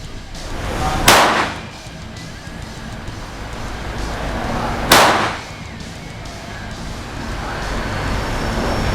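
Two sharp, loud shots from a KelTec P17 .22LR pistol fired one-handed at 10 m ring out about four seconds apart, each decaying quickly over a steady outdoor background.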